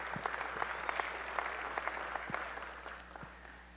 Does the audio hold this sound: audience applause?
yes